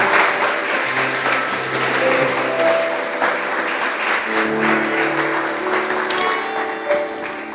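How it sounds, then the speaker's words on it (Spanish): A church congregation claps loudly and continuously for Jesus, with dense sustained applause for several seconds and faint music or voices underneath. "Den un fuerte aplauso a Jesús."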